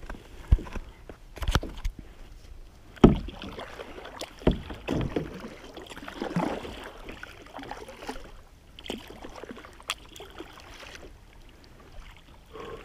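A kayak paddled on the sea during a fishing trip, with irregular paddle strokes and splashes close by, a few sharper knocks against the hull, and quieter water between strokes.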